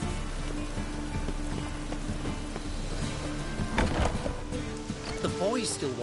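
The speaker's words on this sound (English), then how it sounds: "Rain, I like rain." Rain patters steadily on surfaces in a Witcher 3 city street, a constant hiss with scattered drops, while voices and movement sounds come through underneath.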